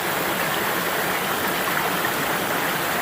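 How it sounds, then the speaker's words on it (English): A brook swollen after heavy rain rushes past on the Appalachian Trail near Bear Mountain State Park, New York, a steady close roar of fast water without a break. "After heavy rain, the brooks are really running."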